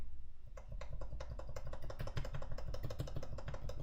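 A Tina-C MX HHKB keyboard with lubed Ergo Clear switches, its enter key pressed over and over in a steady rhythm of close, crisp clacks.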